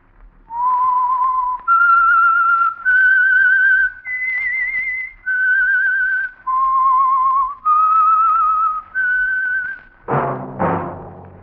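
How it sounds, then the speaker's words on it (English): A person whistles a slow eight-note melody, each note held and clear, as the theme signaling The Whistler radio program sponsored by Signal Oil, from 1948, followed by a brief low orchestral chord at the end. "That whistle is your signal for the Signal Oil program, The Whistler."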